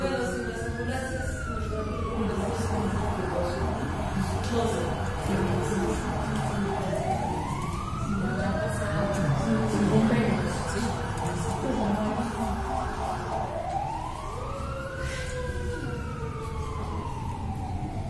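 An ambulance siren wails through repeated rising-and-falling cycles over a steady traffic rumble, loud and near as it passes, with a person talking underneath.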